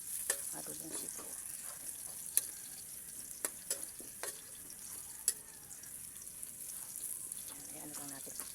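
Ingredients for adobong sitaw toasting in a pan, giving a steady soft sizzle with scattered sharp clicks and scrapes of a utensil against the pan, close by, with a little faint voice in the background.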